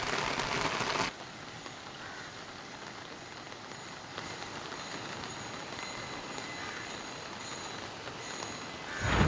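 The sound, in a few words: heavy rain in Shahapur, Maharashtra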